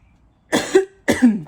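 Two short, close coughs in quick succession, each a sharp burst ending in a low throaty catch, separated by a brief pause.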